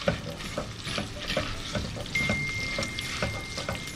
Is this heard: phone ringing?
no